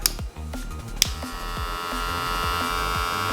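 A Wahl Magic Clip Limited hair clipper runs close by with a steady, even electric hum and no rattle, alone without talk.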